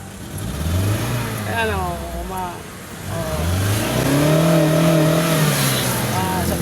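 A second-generation Honda CR-V engine revs up toward 5,000 RPM in repeated rising and falling surges, loud and close, with someone talking over it.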